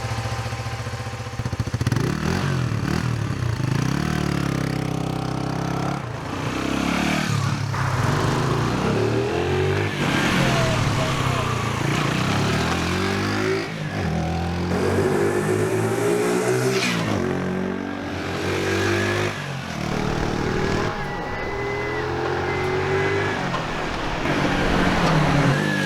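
A 2018 AJS Cadwell 125 cafe racer motorcycle with a small 125 cc engine, heard riding past with rising and falling revs as it accelerates and changes gear, loud and close with a buzzy, steady drone.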